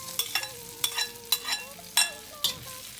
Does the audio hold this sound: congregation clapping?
no